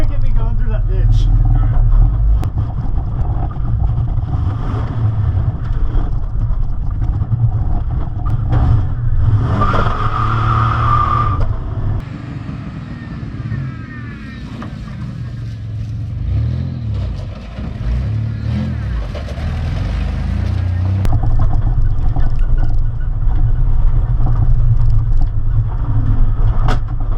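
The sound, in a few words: rally Camaro car driving through a ditch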